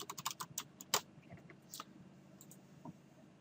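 Quick bursts of clicking keystrokes on a computer keyboard, close and fairly quiet, with a cluster at the start and scattered taps afterward.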